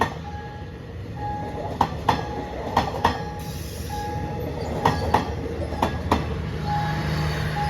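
A train rolls past nearby at a railway crossing on Si Ayutthaya Road in Thailand in the evening, with rhythmic clickety-clack of wheels over rail joints, steady rumble and a faint squeal, while a crossing bell dings in the background.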